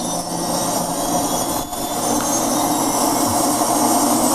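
Rotors of a drone spinning up for takeoff, a loud, steady whirring roar that fills the whole clip with only a brief dip partway through.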